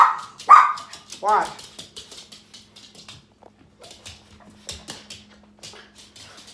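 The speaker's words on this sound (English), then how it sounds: "my dog, a little security system" A small dog barks loudly a few times near the start, then goes quiet while a person talks over a faint steady hum.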